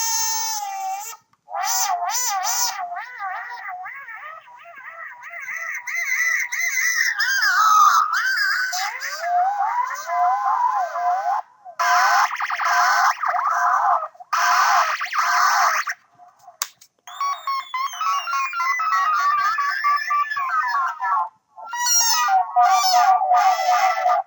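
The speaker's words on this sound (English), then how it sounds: "that was the actual Korg Monotron synthesizer" Korg Monotron Delay analog synthesizer played alone, producing wailing, swooping, honk-like tones with rapid wobbling pitch bends and delay echoes, broken by brief gaps over about twenty-four seconds.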